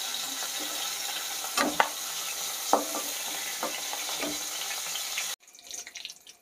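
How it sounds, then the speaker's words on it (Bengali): Pointed gourd frying in hot oil, a steady sizzle with several clinking stirs and scrapes of a utensil as the pieces are lifted out, ending abruptly with a quieter drip. "দেখুন, পটলগুলো ভাজা হয়ে গেছে,"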